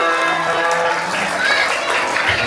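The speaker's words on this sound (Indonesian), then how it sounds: "Masya Allah, tepuk tangan dong buat kita semua." An audience of children and adults claps at a school Maulid Nabi celebration, continuous applause mixed with overlapping voices and cheering.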